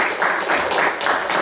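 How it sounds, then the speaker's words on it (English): A workshop audience in a room gives a brief, steady round of applause, loud and close, with dense overlapping clapping and no talking over it. "if you'll go ahead and give them a round of applause."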